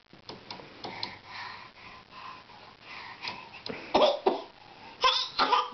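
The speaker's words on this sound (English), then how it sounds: "No, he just was coughing." A baby coughs several times in short, irregular bursts, with sniffs and throat-clearing sounds in between, close and fairly quiet indoors near a crib.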